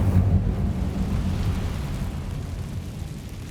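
Incendio fire spell cast in the Hogwarts Legacy video game, a loud, steady roaring rumble of flame with a burst at the start, heavy in the low end and sustained to the end without voices.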